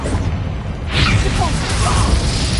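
A Confringo fire spell cast in Hogwarts Legacy erupts with a sudden whooshing burst after a quieter moment, then a crackling, rushing blaze that sustains loudly to the end.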